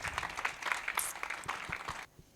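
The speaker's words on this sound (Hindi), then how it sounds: "वाह, जोरदार तालियां बजाएं।" At a Sunday church meeting in Pakistan, a congregation gives a quick round of clapping that stays fairly soft and distant, then stops abruptly after about two seconds.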